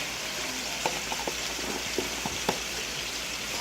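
Minced garlic, about a teaspoon, sizzling in a hot frying pan while cooking picadillo con papas, a steady crackling hiss with a few soft clicks of stirring or handling.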